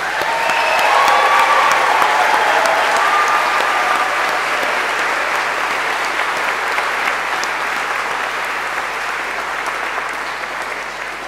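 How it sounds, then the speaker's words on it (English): A graduation ceremony audience gives graduates another round of applause, dense sustained clapping from a large crowd filling the hall for over ten seconds and slowly tapering toward the end. "I think another round of applause is in order"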